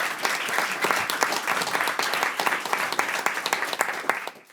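Audience at a panel debate applauding, a dense burst of clapping filling the room for several seconds before fading away at the end.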